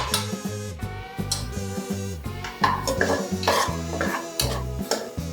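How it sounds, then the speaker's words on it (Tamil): Ground masala sautéed in a pan for a Tamil chicken curry, with a spoon scraping and stirring in short repeated strokes and a faint sizzle, partly masked by steady background music. "அரைச்ச மசாலாவை இதில் போட்டு நாம் வதக்கணும்."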